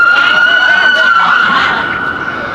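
A loud ambulance siren holds a steady wail near an outdoor Juneteenth event in San Francisco, then fades slightly as it passes, with crowd and voices faintly beneath.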